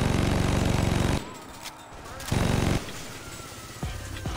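A chainsaw engine in the video game Saints Row 2 revs in loud buzzing bursts, cutting out briefly between them, with game sound effects in the background.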